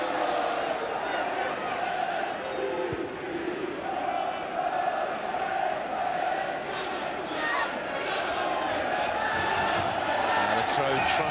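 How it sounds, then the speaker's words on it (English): A home football crowd at a Swindon Town versus Crystal Palace match roars and chants steadily in a cold stadium, a dense, continuous wash of distant voices with no pause throughout. "The crowd trying desperately to try and raise the home side as the temperature drops."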